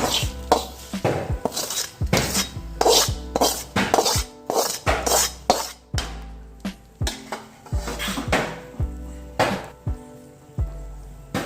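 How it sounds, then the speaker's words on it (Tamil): Fried cashews tipped into a pot of pepper pongal (venpongal) and stirred, giving repeated close clinks and scrapes of a spoon against the metal pot in an uneven rhythm, with no talk. "இப்போ முந்திரி பருப்பு எல்லாமே சேர்த்து வதக்குனது எல்லாமே இப்போ இந்த பொங்கலில் கொட்டி கிளற போகிறோம்"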